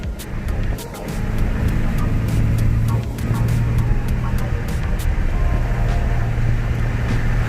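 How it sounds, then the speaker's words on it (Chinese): A restored black Mercedes-Benz W111 classic car drives along, its engine giving a steady low droning hum with road noise, sustained and close from inside the cabin. "这个车上高速公路就不觉得吵了，这转速可以。"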